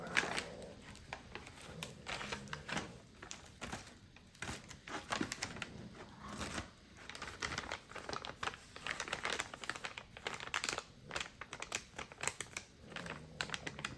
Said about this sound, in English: Some good little plastic sounds.